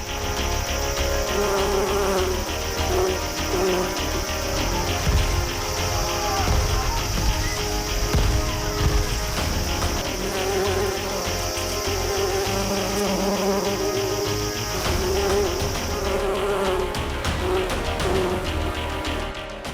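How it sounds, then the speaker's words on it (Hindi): A dense swarm of bees buzzes loudly and continuously for the whole stretch, a thick droning hum with no pauses and no voices. "मधुमक्खियों का हमला"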